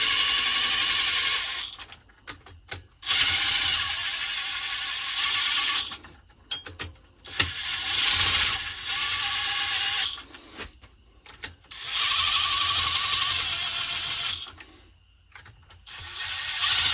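Bolts on a Craftsman YT3000 riding-mower engine run down with a ratchet during a rebuild, giving repeated bursts of rapid, close clicking separated by short pauses.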